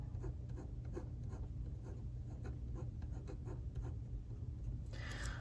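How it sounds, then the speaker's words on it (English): A pen scratches steadily across the page of a paper planner, short strokes and quick repeated marks close and soft against a low background hum, with a brief brighter scrape near the end. "I'm gonna write September income."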